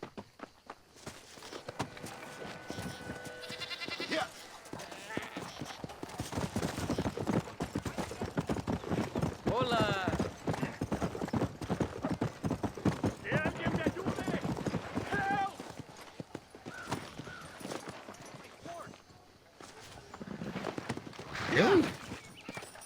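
Horse hooves clip-clop in Red Dead Redemption, a steady trotting rhythm over game ambience while a person talks throughout.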